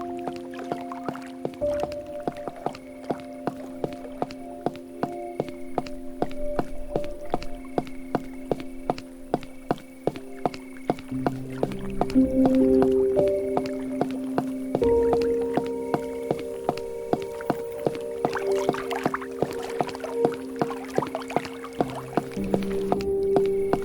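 Water flows in the video game Cabernet, with soft splashing and trickling ticks running throughout under steady sustained musical tones.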